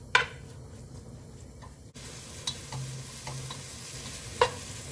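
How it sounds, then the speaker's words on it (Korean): Beef stir-frying with sesame oil, soy sauce and garlic gives a soft, steady sizzle, broken by a few sharp clicks and scrapes of a utensil against the pan, close by and without speech. "참기름 넣어줍니다. 국간장 넣어주세요. 이렇게 해서 볶아줍니다."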